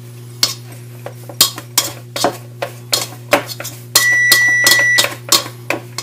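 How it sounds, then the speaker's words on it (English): Lemon bar crust ingredients with unsalted butter mixed in a bowl, a close run of sharp rhythmic clinks and knocks from a utensil against the bowl, with a steady electrical hum beneath and a brief tonal beep partway through. "And now we're going to mix this in."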